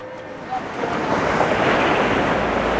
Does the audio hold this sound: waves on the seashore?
yes